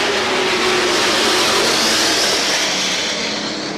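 Winston Racing Series Pro Stock race cars roar together around a speedway corner, a dense, loud, continuous engine wash that holds steady and fades only slightly at the end.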